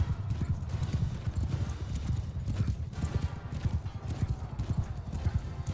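Horse hooves pound in Mount & Blade II: Bannerlord, a continuous, rapid clip-clop of galloping cavalry with an occasional whinny, loud and close throughout.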